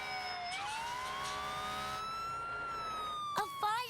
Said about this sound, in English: A fire truck.